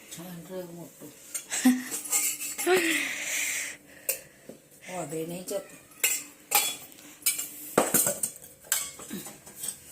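Pots and utensils clinking and scraping in a home kitchen as cauliflower curry is cooked, sharp intermittent metallic clatter and stirring, with people talking in between.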